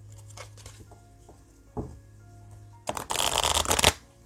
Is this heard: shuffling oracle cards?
yes